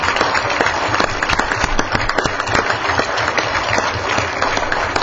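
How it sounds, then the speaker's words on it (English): A council meeting audience applauds for the wife of a newly promoted fire battalion chief: loud, sustained clapping from many hands, a dense continuous patter with sharp individual claps standing out. "We're applauding for Lisa."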